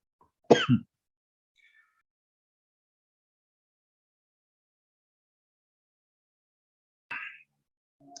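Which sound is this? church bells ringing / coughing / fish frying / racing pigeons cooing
coughing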